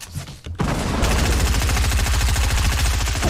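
Rapid, continuous gunfire from tanks in the video game TANX, a dense machine-gun-like stream of shots that kicks in after a short pause and stays loud and steady.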